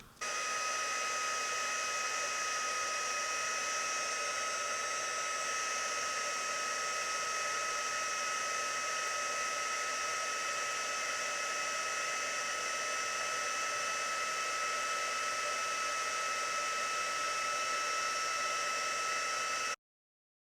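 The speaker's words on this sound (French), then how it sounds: "Et je vais chauffer directement le bois avec mon pistolet chauffant." Heat gun blowing hot air onto wood to melt embossing powder, a steady loud whirring hiss with a high whine that runs unbroken for about twenty seconds, then cuts off abruptly.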